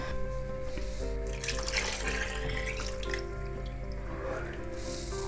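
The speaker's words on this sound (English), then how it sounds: "I'll add a little bit water into this." Water poured into cooked toor dal with moringa leaves in a pan, a close, continuous splashing trickle lasting a few seconds over a steady background hum.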